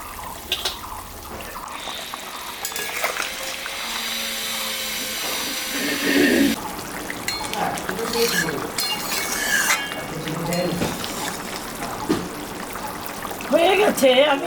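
A whole katla fish goes into boiling fish curry, with bubbling, splashing liquid and clattering pot sounds mixed with steady hiss and brief scraping, some louder bursts midway and near the end.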